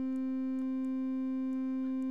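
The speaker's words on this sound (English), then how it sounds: "I can try to draw a sine wave, so I draw a sinusoid." A Kmath synthesizer plays a pure sine wave as one steady, unbroken tone, clear and even in volume for the full length, with a few faint clicks in the background.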